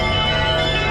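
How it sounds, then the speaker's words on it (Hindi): Bells ring at six o'clock in Chinatown, London, a steady dense wash of ringing tones mixed with street ambience, continuous and fairly loud throughout with no talk. "वो घंटियाँ ऊपर आप देख रहे हैं वो सारी बज रही हैं। 6 बज गया है, घंटियाँ बज रही हैं।"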